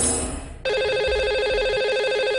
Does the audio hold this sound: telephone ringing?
yes